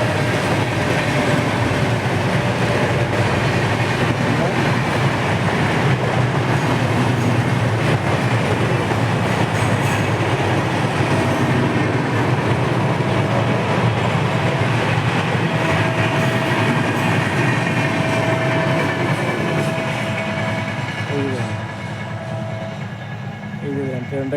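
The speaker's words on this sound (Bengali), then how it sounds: "এই যে দেখেন ট্রেনটা আইলো" A train rolls over a bridge in a loud, continuous roar of wheels and rattling cars, close and sustained throughout, with clickety-clack rhythm and a faint squeal easing toward the end.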